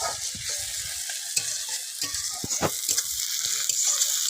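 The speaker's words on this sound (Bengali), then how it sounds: "রসুন আর পেঁয়াজটা ভালো করে ভেজে নেবো।" Garlic and onion sizzle steadily in a pan for a chicken curry cooked outdoors, with a constant hiss broken by scattered sharp pops and a few scraping stirs, close and fairly loud.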